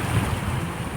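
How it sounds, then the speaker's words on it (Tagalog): Waves lap along the shore of Manila Bay, stirred up by a strong wind, a dense continuous wash of water and gusting wind noise that stays loud and close throughout. "maririnig mo ang lagaslas ng alon na gawa ng medyo malakas na hangin"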